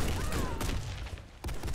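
Gunfire in the video game Warface sounds as loud, sharp cracks, with shots at the start, near the middle and one near the end. Constant game noise runs beneath, and someone speaks Russian in the background.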